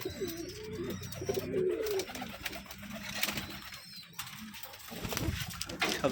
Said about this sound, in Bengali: এইটা হলো দেশি কবুতর আমাদের